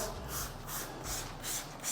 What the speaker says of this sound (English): All right, so we're just gonna spray it on the paint.